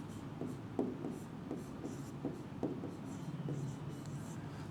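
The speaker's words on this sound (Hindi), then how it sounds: "चलिए यहां पे लिख दे रहे हैं बिल्डिंग।" Marker or chalk strokes write a word on a classroom board, giving soft scratchy taps and short rubbing strokes in an irregular rhythm over a low room hum.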